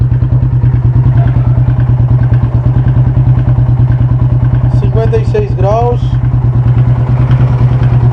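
A Yamaha Fazer 250 motorcycle engine running with a reported noise fault, a loud, close, rapid steady idle thrum with mechanical clatter, while someone speaks briefly over it.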